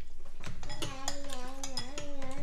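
Bún mắm noodles being mixed in a bowl, with utensils clinking against the dish in light, irregular taps, while a voice talks over the stirring.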